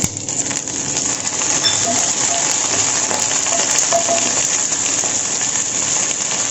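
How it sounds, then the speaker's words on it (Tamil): Mustard seeds and fenugreek spluttering in hot oil for an eggplant curry, a steady loud crackling sizzle with scattered sharp pops, close up and continuous without talk. "அதில் இப்போ கடுகு, அது பொரிஞ்சதும் வெந்தயம் இதெல்லாம் நல்லா பொரியட்டும்"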